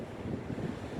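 Breezy wind sweeps across a beach with dunes and sea-glass green water, a close, continuous buffeting rumble on the microphone.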